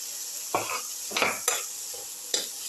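Tomato pieces frying in a pan for a snake gourd tomato casserole, stirred in four short scraping bursts over a steady background sizzle, with no talking.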